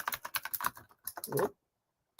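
Quick bursts of typing on a computer keyboard the typist is not used to, fairly close, a busy run of key clicks and then a pause before a final short burst, with a brief spoken exclamation.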